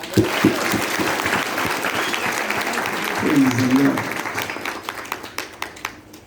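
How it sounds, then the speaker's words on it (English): A church congregation claps during a rainy-day Sunday service, a steady wash of applause running throughout while a preacher's voice speaks over it. "Clap for yourself."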